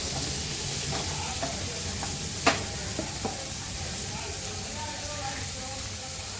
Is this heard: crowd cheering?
no